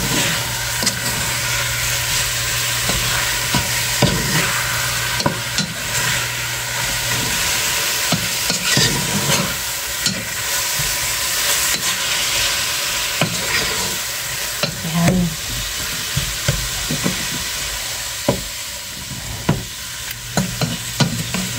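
Food frying in a pan seasoned with black pepper is stirred, a steady sizzle running throughout with frequent scraping and clinking strokes of the utensil, close and continuous with no talk.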